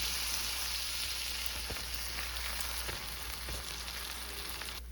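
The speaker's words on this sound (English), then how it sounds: "we'll fry our buns in butter" Hamburger buns toasting in butter in a pan for smashburgers give a steady, close sizzle with a dense crackle and a few sharper pops, running evenly throughout with no talk.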